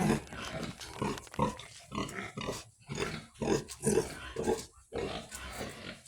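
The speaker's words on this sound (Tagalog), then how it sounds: "At yung ating mga native pig." Native pigs on a small farm grunt and snort in a steady run of close, overlapping bursts, with no talk.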